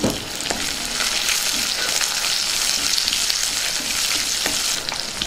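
Garlic, chillies and curry leaves sizzle in hot oil as a tempering for chicken buttermilk curry, a bright, continuous crackling hiss with a few faint pops, close and without talk.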